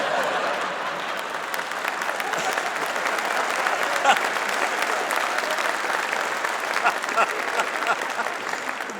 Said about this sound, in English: That's the sound of men applauding.